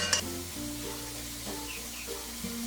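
Vegetables for spring roll filling being stirred with chili sauce and tomato ketchup in a hot pan, a steady close sizzle with a few soft scraping stirs.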